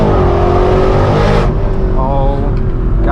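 A straight-piped, Gintani-tuned BMW M3 E92 V8 roars loudly and continuously close by, its exhaust note shifting pitch as the car accelerates and changes gear, with no talking over it.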